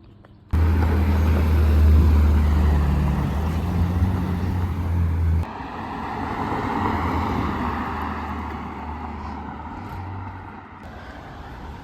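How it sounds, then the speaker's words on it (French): A Bentley Bentayga spotted in Gérardmer gives a steady, loud low engine rumble close by, which shifts partway through and then eases to a softer passing drone. "Magnifique Bentley Bentayga, inattendu."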